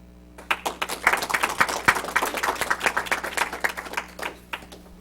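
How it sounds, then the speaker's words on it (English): A small club audience at a HealthMasters Club contest gives the contestants a round of applause, clear crisp clapping that rises quickly, holds steady for several seconds, then tapers off. "I want to give all of the contestants one more big round of applause."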